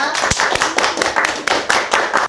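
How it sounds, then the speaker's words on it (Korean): Applause opening a company town hall meeting in an office, a small group clapping in uneven bursts with sharp individual claps standing out, close and fairly loud throughout. "타운홀 미팅 박수로 한번 시작해 보겠습니다"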